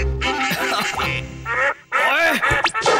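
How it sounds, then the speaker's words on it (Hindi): Cartoon ducks quack in a noisy, busy flurry of animated calls mixed with music and effects, loud throughout with a brief dip near the middle. "बतख यह चिल्लाए, सारे बतख उड़ते चले आए"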